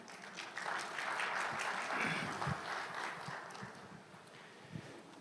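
Audience applause welcoming a presenter to a session at a junior college innovation forum: a steady, moderate patter of many hands heard from a distance, easing slightly toward the end.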